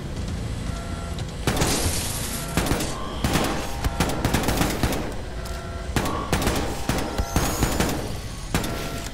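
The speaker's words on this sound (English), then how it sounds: "they start shooting at me like really fast" Rapid enemy gunfire in Wolfenstein II: dense bursts of automatic shots crackle in quick succession, loud and close, with short gaps between volleys and no talking.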